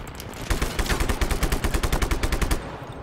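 Rapid automatic gunfire from the video game Just Cause 3 rattles in a fast, even burst lasting about two seconds, loud and close, with game-like punchiness.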